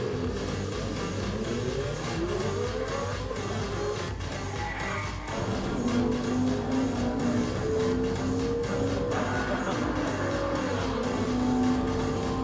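A Lamborghini and a Ferrari roar through a race, engines revving and shifting gears loudly and continuously, with rising and falling pitch as they accelerate.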